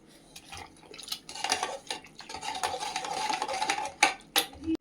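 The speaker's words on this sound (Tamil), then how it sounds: "குக்கரை திறந்துட்டு மசிச்சுக்கலாம்" A metal utensil clinks and scrapes inside a pressure cooker as soft cooked eggplant is mashed, with irregular knocks and a few sharp taps near the end.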